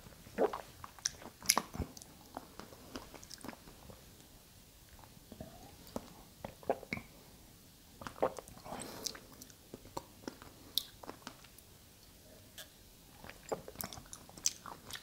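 Sipping and tasting Oishi Green Tea Plus C, an orange-scented green tea drink with coconut jelly pieces: quiet close-up mouth sounds with soft chewing, small clicks and scattered crunchy bites, no speech.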